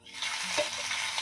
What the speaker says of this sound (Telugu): చక్కగా తాలింపు అనేది ఫ్రై చేసుకొని